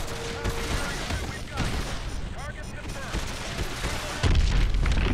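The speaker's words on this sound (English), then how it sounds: "Lock onto those hard points and hit them with your missiles." Missiles striking the hard points of a hydroelectric dam in Call of Duty: Advanced Warfare, heard as a dense, continuous barrage of close blasts and booms that swells into a heavy, deep impact near the end.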